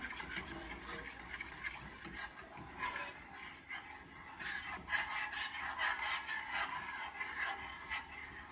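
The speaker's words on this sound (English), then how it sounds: "So let's stir this together, get it all melted and combined." Melted butter and honey for roasted carrots stirred in a pot, giving a steady scraping, rasping rub of utensil against the pan, close and continuous with some irregular strokes.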